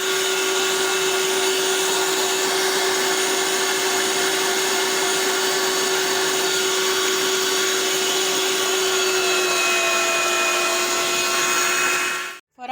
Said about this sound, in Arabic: فرمت الفراخ